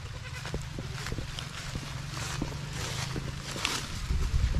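Goats bleating outdoors near bananas left on the ground, several short calls scattered through a busy open-air background of rustling and shuffling, moderately near and fairly quiet.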